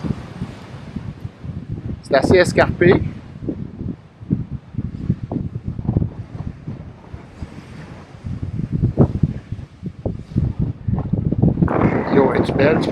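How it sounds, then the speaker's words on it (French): Wind buffets the microphone in uneven gusts on a steep hiking trail to a beach, rumbling loudly at times while people talk throughout. "Ici, il y a du vent, comme vous pouvez voir, ou entendre plutôt."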